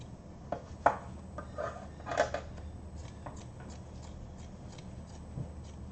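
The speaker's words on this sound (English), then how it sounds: "And then in this case, we're going to cut it out a little bit." Scissors or a blade cut a hole in a rug during rug finishing. There are close, intermittent snips and rough fibrous cutting sounds, with a few louder crunches over a quiet room.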